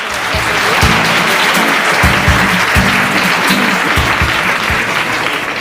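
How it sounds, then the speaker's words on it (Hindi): A studio audience on the Kaun Banega Champion quiz show breaks into loud, sustained applause, a thick continuous roar of many hands with a few louder individual claps and some brief voices beneath. "जोरदार तालियां हो जाए।"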